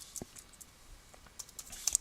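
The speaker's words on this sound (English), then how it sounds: "you would type your CSS rules inside a style tag, so something like this" Quick, light keystrokes tap on a computer keyboard while CSS code is typed, a short irregular patter of clicks with brief pauses, fairly quiet and close with no voice over them.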